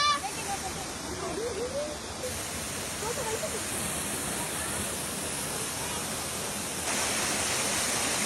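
Balagbag Falls in Real, Quezon pours as a steady, broad roar of falling water, constant throughout, with excited voices talking over it.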